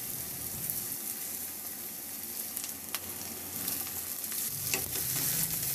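Garlic, onion and tomato sauté in a pan for a chicken dish, giving a steady close sizzle with occasional stirring scrapes throughout.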